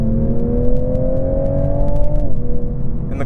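A 2022 Toyota A90 Supra with an 8-speed automatic revs up in a rising whine, then dips sharply as a gear change lands before climbing again. The engine note is loud and close, and there is no talk.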